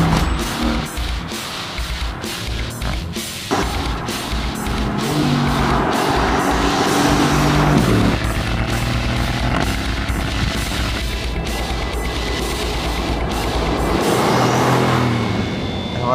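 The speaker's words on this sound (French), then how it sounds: "la GT est assez silencieuse même si on entend bien le bruit des pneus à 130 à l'heure" A Mercedes-AMG GT S with a 4.0-litre V8 cruises on a motorway at about 130 km/h. A steady, loud roar of tyre and road noise carries on throughout under a low engine hum, with no one talking.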